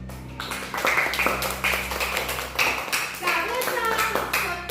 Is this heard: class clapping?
yes